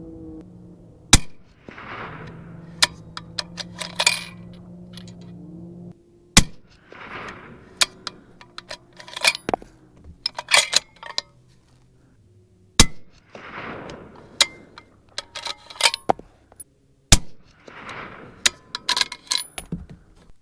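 Shots from a 7mm-08 Remington rifle fired at a target: five sharp, isolated cracks spaced several seconds apart, with faint handling clinks and rustling between them.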